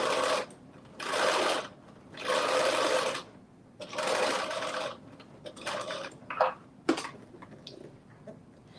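A sewing machine stitches fabric spikes for a Simplicity 9844 sew-along, running in four steady bursts of a second or so each, separated by pauses, then a few shorter, choppier runs near the end.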